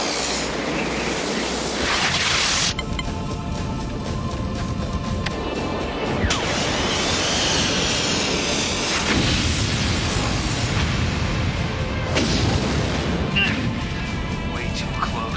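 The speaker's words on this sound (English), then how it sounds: "Missile launch." Missile launch in an animated space battle, a loud, dense roaring whoosh and crashing blasts running continuously under overlapping voices and battle effects, with sharp surges at several points.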